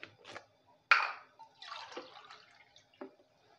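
Water being poured into cooked masoor dal in an opened pressure cooker, heard as quiet separate splashes and gurgles with short pauses between them, close and soft.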